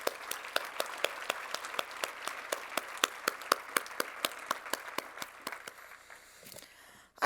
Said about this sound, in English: Let's give an applause for those outgoing board members.